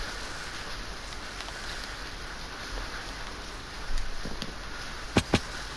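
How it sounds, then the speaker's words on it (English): Rain falls outside as a steady, soft wash of hiss in the background, with a couple of sharp clicks near the end. "it's raining near me."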